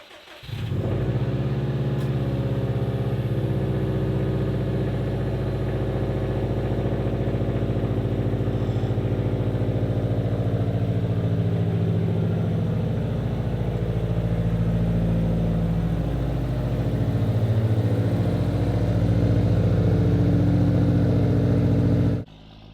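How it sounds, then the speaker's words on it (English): A Subaru STi engine idles steadily close by, with a low, even rumble that holds for most of the stretch and small shifts in pitch as the car creeps and maneuvers into a garage, then cuts off at the end. "I'm just going to turn the car around, back it in the garage"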